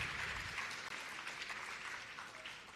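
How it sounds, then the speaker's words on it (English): An audience applauds the Chinmaya Mission at a live gathering in Chennai, a dense, even roar of clapping from a large crowd that holds steady throughout. "We need to give a big round of applause for the Chinmaya Mission and to Sri Gopala Srinivasan for taking this initiative forward."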